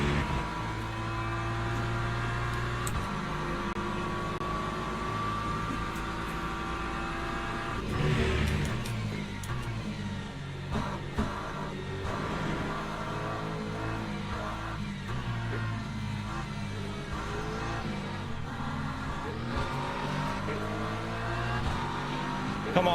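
Race car engines in the Le Mans Ultimate video game, a BMW among them in a multiclass field at Silverstone, drone and rise steadily throughout with shifting revs and a louder surge partway through.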